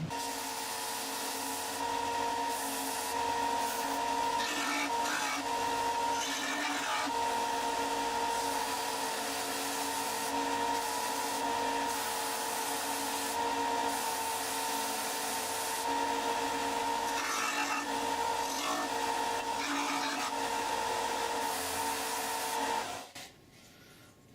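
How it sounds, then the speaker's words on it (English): Belt sander flattening pieces of hard wood for a knife handle: a steady, loud abrasive whir with a constant motor hum and grinding rasps as the wood is pressed against the belt, running continuously before cutting off at the end. "So next, I'm going to flatten them out a little bit on the belt sander"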